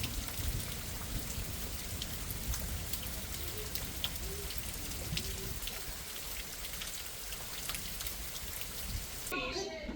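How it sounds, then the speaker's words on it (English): Rain falls on surfaces during a thunderstorm in the Deep South, with steady pattering and dripping and a low rumble of thunder beneath it. "There's some thunder."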